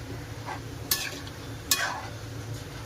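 Semolina upma is stirred in a pan over a low gas flame, with a constant soft sizzle and hiss under two sharp scraping strokes of the spoon against the pan, close and alone.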